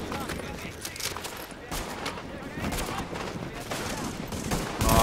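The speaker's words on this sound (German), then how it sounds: "Draußen ist Schießerei, nur mal so am Rande." Gunfire rattles in a shootout in The Division beta co-op on PS4, with fairly quiet, repeated rapid bursts and sharp single shots spread across the scene.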